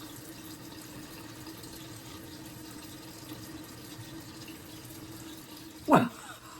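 Water sloshes steadily at close range while tubing mascara is rinsed off the eyelashes, ending in one brief louder splash near the end.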